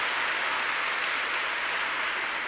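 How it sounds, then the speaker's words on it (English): Swiss teammates cheer and applaud rinkside after a junior ice dance free dance in Istanbul, a steady dense wash of clapping with no break across the whole stretch. "The Swiss teammates cheering them on."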